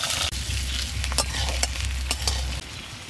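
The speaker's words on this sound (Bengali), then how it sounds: "তেল গরম হয়ে গেছে, আলুগুলো প্রথমে আমি ভেজে নেব" Potatoes fry in hot mustard oil in a wok, a close, continuous sizzle with sharp crackles and stirring scrapes over a low steady hum, with no talking.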